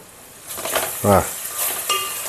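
Onions sizzle in a pan for a mattagadasa fish curry, a short burst of frying hiss with a spatula scrape and a brief squeaky tonal scrape partway through, heard close.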